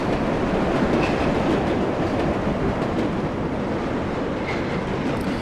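Subway train in the World of Subways 4 game running between New York stations toward Times Square, a steady loud rumble of wheels and motors with faint rail clicks and occasional squeals, no talk.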